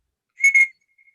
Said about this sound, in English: It's like a whistle and you blow